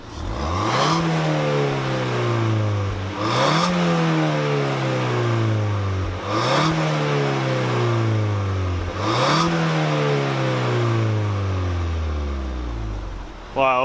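Two Ford Fiesta STs, an ST200 and a new 2019 ST, rev hard in turn, five loud rising-and-falling exhaust blasts repeating at a steady rhythm, close by with a brief voice at the end.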